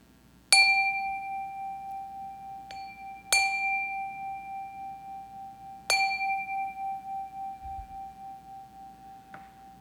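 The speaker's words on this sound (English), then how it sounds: "let us settle our minds and calm our hearts with the ringing of our chime." A chime rings three times at a church service, each strike clear and bright with a long, slowly pulsing decay, followed by one faint final tap in a quiet room.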